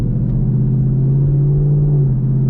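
A 2018 Mustang GT's V8 with a new exhaust idles loud and deep, a steady close-up rumble with a strong low hum and no voices.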